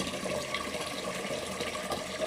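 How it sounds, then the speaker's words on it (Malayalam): Water pours steadily into a pot of washed rice, a continuous splashing rush that stays level for the whole moment. "അതിൽ തന്നെ വെള്ളം പിടിക്കണം"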